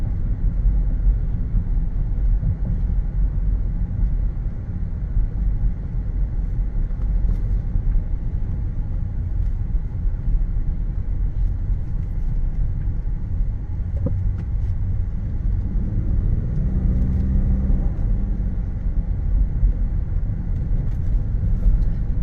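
Steady low road rumble from a 2016 Lincoln Navigator cruising on the road, a continuous even drone of engine and tire noise inside the cabin with no speech.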